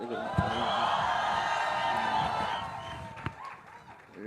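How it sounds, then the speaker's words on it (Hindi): An audience at a film launch event for Tu Jhoothi Main Makkaar applauds actor Ranbir Kapoor with a sustained burst of clapping and some cheering, which fades out toward the end. "रणबीर बैठा है इसके लिए ताली बजा दो एक बार यार"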